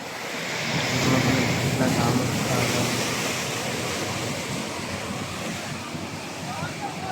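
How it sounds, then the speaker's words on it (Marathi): Big sea waves crash and roar during a coastal storm at a fishing village harbour, a continuous loud surge with heavy wind noise buffeting the microphone and someone talking excitedly over it. "कसली मोठी येत आहे लाट"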